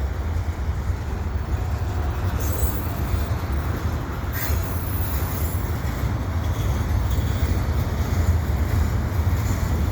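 A freight train led by a road unit locomotive pulls out of a station in winter, a steady low rumble of rolling cars with faint wheel squeal and rail noise throughout, fairly close and continuous.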